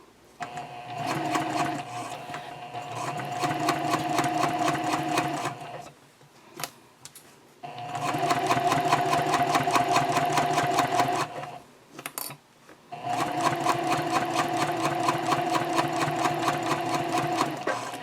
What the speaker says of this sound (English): you're just going to put it underneath your presser foot, and you're going to sew